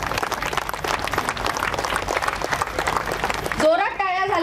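Applause from an audience at a Koli fishing community women's day event in Khar Danda Koliwada, sustained clapping for several seconds before a voice cuts in near the end.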